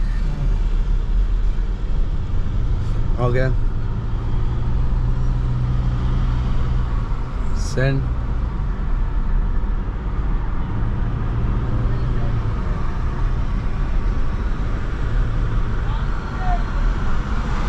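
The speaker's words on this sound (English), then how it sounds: "Okay, so you see traffic." Street traffic in Harare, Zimbabwe forms a steady low rumble of passing vehicles, with a couple of brief horn-like tones. People talk briefly nearby.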